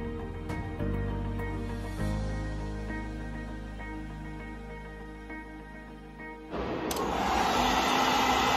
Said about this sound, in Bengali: সো আমি প্রেফার করি মিডলে দিয়ে, মিডল রেঞ্জেরটা রেখে আমি ব্রাশ করছি আমার হেয়ারটাকে।